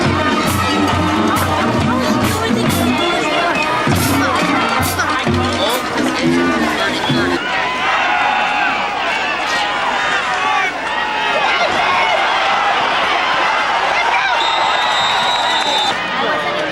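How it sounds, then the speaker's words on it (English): A loud crowd at a cold Saturday afternoon high school football game involving Clinton Township, shouting and cheering in a busy roar, with a commentator's voice over it and a band or horn tones early on. "a pretty loud crowd here from Clinton Township"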